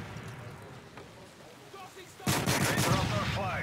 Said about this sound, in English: Good shot by Fluxy on T1 there to stop the flag.